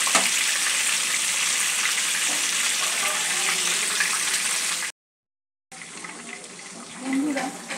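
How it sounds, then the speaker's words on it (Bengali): Prawn paturi wrapped with cabbage frying in a pan, a steady loud sizzle and crackle that cuts out briefly, then resumes with light stirring noises. "উল্টো পিঠটা 3-4 মিনিট ভেজে নেব।"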